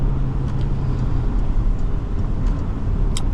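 A 2019 Porsche Cayenne AWD accelerates, its engine and road roar a steady, loud low drone heard from inside the cabin, with no one speaking.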